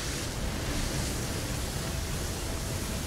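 Rushing water in Horizon Forbidden West, a constant, loud, even broadband roar that doesn't change for the whole stretch.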